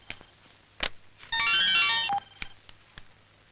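A telephone rings in a Tamil movie scene set in an office, one clear electronic ringtone burst lasting under a second amid quiet room sounds and a few soft clicks.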